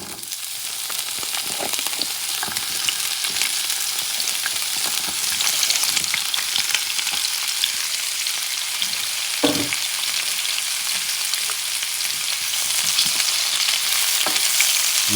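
Mixed vegetables frying in a hot wok for a stir fry, a dense, steady sizzle holding at an even level for the whole stretch, with occasional louder clicks and clatters of stirring, no talk.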